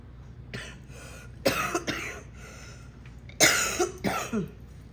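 Two separate bursts of harsh, throaty coughing, each a quick pair of hacks, with a faint earlier cough and quiet room noise between.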